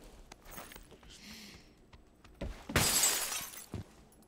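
In PUBG, glass shatters with a loud, bright crash lasting under a second, preceded by a few soft thuds and faint voices, and followed by a short knock.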